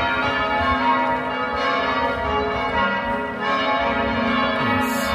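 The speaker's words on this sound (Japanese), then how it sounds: "鳴り響く鐘の音を全身で浴びながら進んでいきます。" Bells of Amiens Cathedral in France ring out continuously, a dense, sustained peal of overlapping tones with rich harmonics, loud and close, with no talk.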